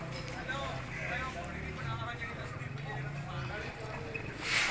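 A mare's hooves clip-clop softly and steadily, fairly faint and partly masked by people talking nearby.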